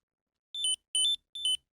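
A super slim wallet finder card, triggered through Find My on a phone, gives three short bursts of high electronic beeping, evenly spaced and alone, with silence before and between them.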